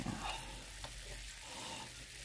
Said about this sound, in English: Get this knife in here and just kind of stir it around a little bit